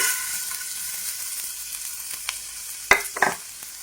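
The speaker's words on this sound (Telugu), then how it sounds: "ఇప్పుడు అదే నెయ్యిలోకి, ఎక్కువ అవసరం లేదండి, అటుకులు అయితే వేసేసుకోవాలి." Flattened rice (poha) is tipped into hot ghee and fries with a fading sizzle, followed by a few sharp clinks and scrapes of a spoon against the pan, close by.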